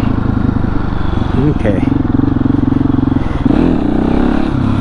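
KTM 701 single-cylinder motorcycle engine running steadily during wheelie practice, a continuous loud rumble with a pitch rise near the end, a brief voice heard over it.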